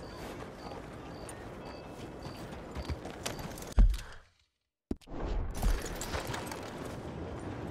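Horse hooves clip-clop in steady rhythm in the video game Red Dead Redemption 2. A brief loud thud and a short silence break the sound before the hoofbeats resume.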